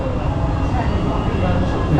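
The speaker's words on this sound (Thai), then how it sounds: "วันนี้เรามาขึ้นรถราง" Hong Kong tram ride aboard the vehicle, a continuous loud low rumble of the running tram with rattling and road noise throughout, steady and close.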